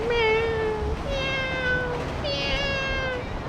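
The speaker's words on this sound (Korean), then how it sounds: "고양이다 아 고양이 뚱냥이 뚱냥이" A cat meows repeatedly in the video game GTA 5, three drawn-out, tonal meows in a row, clear and fairly close, over a low background hum.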